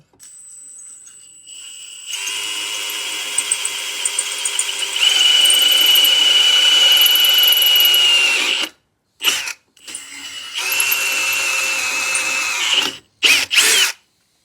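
A hammer drill in hammer mode drives a bolt on a Yamaha YFZ450 ATV, whining steadily and loudly for several seconds, cutting out briefly, then running again in short bursts, with a rattling, hammering buzz.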